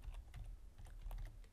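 Keys on a computer keyboard are tapped in a quick, irregular burst of soft clicks, close and faint, with no talk.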